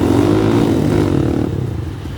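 A WMoto Hawk 200i dual-sport motorcycle accelerates hard on a speed run, its loud, close engine droning with a strong buzzing tone that holds steady, then eases slightly.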